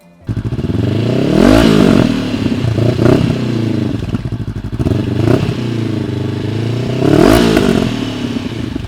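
A Honda CBR 500 parallel-twin motorcycle with an uncorked exhaust pipe revs loudly and up close, rising in several sharp throttle blips over a steady, rumbling idle.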